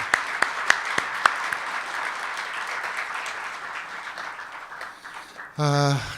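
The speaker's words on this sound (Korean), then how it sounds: "우리 송암교회 목사님과 장로님들에게 감사 인사 박수" An audience claps in thanks to a church pastor and elders after a seminary special lecture, a few sharp individual claps leading into sustained applause, with voices over it and a tone at the end.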